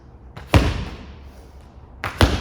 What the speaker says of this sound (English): Slamming the ball.